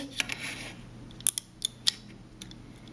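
A metal craft pick pokes lightly through the holes of a metal cutting die to free paper stuck in it, giving a few sharp, close clicks and scrapes spaced unevenly over quiet room tone.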